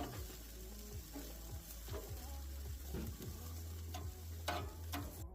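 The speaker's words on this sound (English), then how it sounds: "the asparagus, stick it onto the grill" Asparagus and halloumi sizzle on a barbecue grill, a quiet, steady crackle with faint clicks and scrapes of handling throughout.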